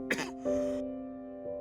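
A single short throat-clearing cough, dry and close, followed by a faint humming tone that holds and fades.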